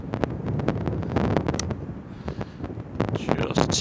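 Wind on a links golf course buffeting the microphone, a loud gusty rumble throughout the short stretch with some faint rustling and clicks.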